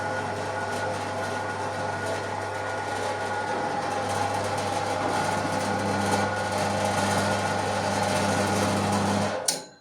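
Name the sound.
STALEX band saw machine running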